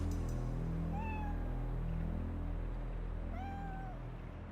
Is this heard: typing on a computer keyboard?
no